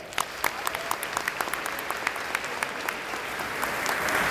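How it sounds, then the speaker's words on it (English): Audience applause at an eighth grade school recognition ceremony: a dense, steady patter of many hands clapping together, holding an even level and swelling slightly louder toward the end. "Let's give them a round of applause."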